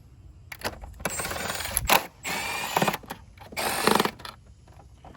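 Engine cover bolts on a Camaro SS loosened with a 10mm socket, close bursts of rapid metallic ratcheting separated by short pauses, with no talking.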